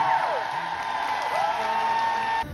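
Concert audience at a show in Seoul applauding and cheering for the backing band, a steady wash of crowd noise with whoops, fairly loud and continuous, cutting off near the end.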